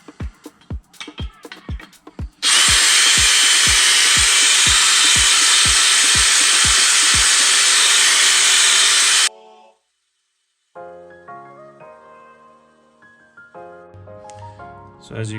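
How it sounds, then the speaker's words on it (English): Lawn mower blade from a Honda HRX mower being sharpened by hand without a vise, a loud continuous grinding roar for about seven seconds, preceded by rhythmic thumps and followed by quieter clatter. "sharpening it up real nice"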